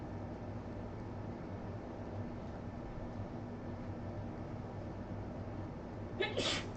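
A single short sneeze bursts out near the end, after a long stretch of quiet room hum during a high-school biology lesson.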